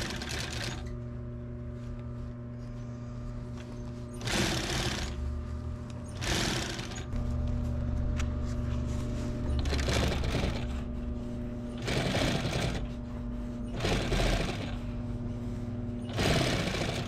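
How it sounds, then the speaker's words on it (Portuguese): A sewing machine stitches clothesline cord into piping for upholstering a square armchair, fast whirring stitch runs repeating in regular bursts roughly every two seconds, close and steady. "daí agora você vai costurar a cordinha aqui"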